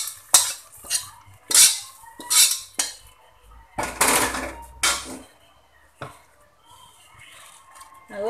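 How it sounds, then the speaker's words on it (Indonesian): Sautéed shallots and oil poured onto rice in a pot for spicy nasi liwet with salted squid, heard as a series of close clinks and scrapes of metal utensils against the pot. "sekarang kita tuangin ya bawang merah dan juga minyak yang sudah kita tumis tadi"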